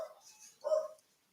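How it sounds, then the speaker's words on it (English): Dogs in a kitchen give a short burst of barking and whimpering, a brief yelp up front and then a louder bark or whine near the middle, fairly close, before the room falls quiet. "Hopefully the dogs will calm down in a minute."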